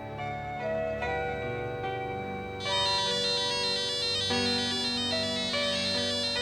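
A mobile phone rings with an incoming call: a repeating melodic ringtone plays over a soft musical background and brightens into a louder, busier stretch partway through, with no talking.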